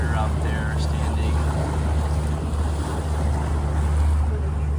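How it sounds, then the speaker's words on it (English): A motorboat engine warms up as the boat leaves a marina at about 2200 RPM and 6 knots, a steady low drone under heavy wind and water noise. "I want to just let the engine warm up nicely, and then we're gonna get up on plane"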